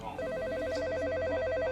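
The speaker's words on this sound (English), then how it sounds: "Immediately, the phone rang" A telephone rings with a steady electronic warble, a continuous tonal ring filling the whole short stretch, fairly loud and close with no voices over it.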